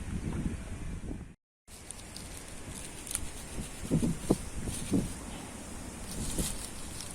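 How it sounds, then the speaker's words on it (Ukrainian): Strong spring wind buffeting a forest while hunting morel mushrooms, a gusty low rumble and rushing noise with a brief dropout early on, fairly loud and close to the microphone. "вітер сильний, буде трошки шумно"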